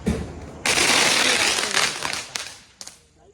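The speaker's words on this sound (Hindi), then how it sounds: "पटाखा फोड़त मस्त मजा आती" Firecrackers burst in a loud, dense crackling rush beside a building, thinning out into a few scattered pops at the end.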